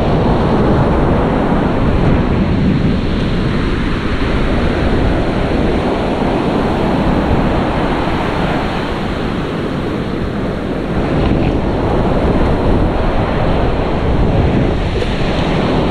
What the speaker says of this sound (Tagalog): ang lalaki ng alon at baka magtaob na tayo mamaya ng kitang